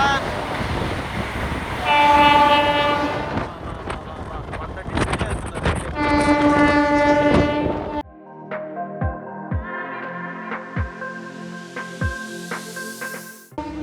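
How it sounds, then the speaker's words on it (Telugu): A Vijayawada–Chennai Vande Bharat express train approaching and rushing past, with two long, loud horn blasts followed by the rhythmic clatter of wheels over rail joints, heard close by without talk. "ఇదిగోండి మన విజయవాడ చెన్నై వందే భారత్ అయితే దుమ్ములు లేపుకుంటూ వచ్చేస్తుంది"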